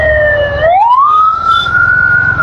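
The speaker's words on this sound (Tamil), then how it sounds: "ஆம்புலன்ஸ் வருது." Ambulance siren on a road, heard from a motorbike, loud and close, with a steady wailing tone that sweeps upward and holds over engine and traffic rumble.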